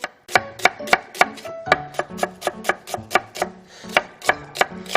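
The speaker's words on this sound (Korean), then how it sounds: "빠른 칼질로 양파를 채 썰고 있습니다" A knife julienning an onion on a cutting board makes rapid, crisp chops, close and evenly spaced, about three or four strokes a second, with a brief break midway and no voices.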